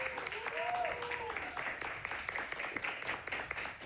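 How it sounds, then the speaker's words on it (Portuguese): A small studio audience at a local afternoon TV programme claps in a round of moderate applause, a soft, steady patter over a sustained musical tone early on, fading slightly toward the end. "eu vou pedir uma salva de palmas para nossa Dona Cuca."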